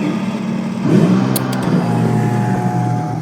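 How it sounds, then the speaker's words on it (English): A race car engine runs at a steady, rumbling idle that rises slightly in revs, close and loud for the whole stretch with no talking. "when you sit in a race car and you fire it up"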